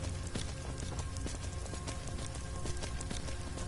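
Steady, rapid clip-clop of horse hooves at a trot in the video game Skyrim, from a summoned skeletal ghost horse, fairly quiet and even, with no other sounds.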